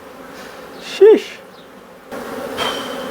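Bees buzzing around two large hives built into the floor of a shed, a close, low droning hum under a brief spoken exclamation.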